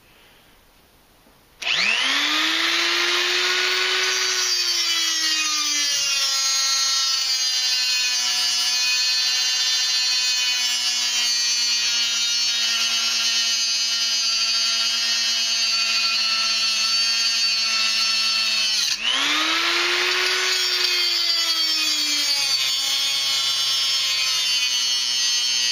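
A 3-inch electric high-speed cut-off tool spins up loudly and cuts steadily for about fifteen seconds, whining down briefly before revving and cutting again, with no talking.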